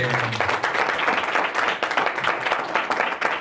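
A church congregation claps loudly together, a dense run of hand claps with sharp individual peaks, steady for the whole stretch and close by.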